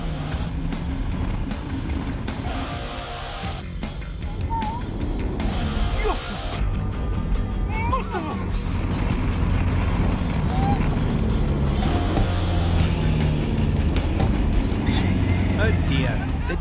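A diesel off-road vehicle straining to climb a sand dune at a dune event, its engine roaring loudly and continuously with revving surges, while people talk over it.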